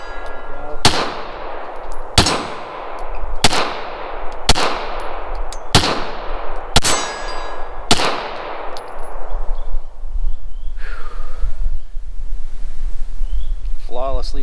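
Walther P38 pistol firing and cycling, seven loud sharp shots at roughly one-second intervals, each ringing out with a long echoing decay, followed by quieter mechanical handling noises.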